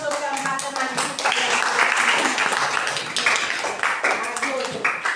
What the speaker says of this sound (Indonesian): Kita tepuk tangan dulu untuk keempat teman kita.